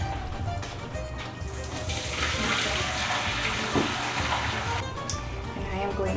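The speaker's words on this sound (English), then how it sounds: "I am going to strain my noodles" Water from cooked noodles pours and splashes through a strainer into a sink in a home kitchen, a steady rushing gush that swells midway and stays close.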